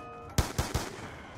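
Three quick pistol shots from Call of Duty Zombies crack out in rapid succession, sharp and close, with no talk over them.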